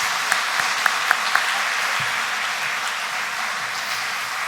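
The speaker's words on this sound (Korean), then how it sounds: "우리 교사들 위해서 우리 격려와 감사의 박수 한번 합시다." A church congregation at a Sunday afternoon service applauds teachers with a steady crowd clapping that has a few sharp, distinct claps near the start, moderately loud and unbroken by speech.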